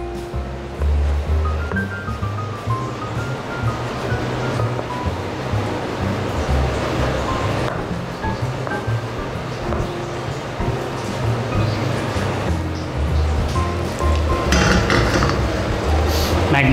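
Bacon and small cubes of Gyulai smoked sausage frying in a pan with a continuous sizzle, broken by occasional clinks of utensils against cookware.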